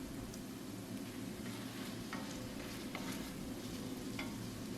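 Meat and onions sauté with butter in a pan, giving a faint, continuous low sizzle and crackle with a few soft ticks, steady throughout and without voices.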